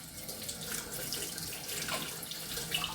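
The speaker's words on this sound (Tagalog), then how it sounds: "Hugasan muna natin to." Tap water running steadily from a faucet while a cucumber is washed under it, a continuous close hiss and splash with no talk.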